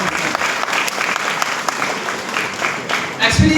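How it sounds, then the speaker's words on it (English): An audience at a DXN gathering applauds in a thick, continuous wash of clapping, loud and even throughout, swelling slightly near the end as a voice begins to break in. "Give a round of applause to Mr. Jamal Masadi"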